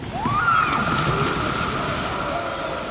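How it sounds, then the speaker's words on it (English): Water splashes and sloshes as people dive in during a sound-memory moment in the climbing game Jusant on Xbox Series S. The splash swells loudly, then settles into a softer wash with a faint sustained tone. "Oh, diving into the water there, I guess."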